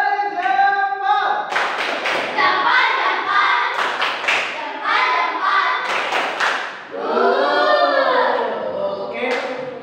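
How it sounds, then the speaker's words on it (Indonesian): Children clapping in a classroom, rhythmic bursts of hand claps and thumps mixed with loud children's voices chanting and shouting throughout. "kasih tepuk tangan semuanya"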